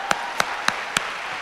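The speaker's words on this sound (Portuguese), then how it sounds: "Aplaude sem inveja, gente." In a church gathering, four sharp, distinct handclaps sound at roughly even intervals, close by and crisp, followed by a brief quiet stretch.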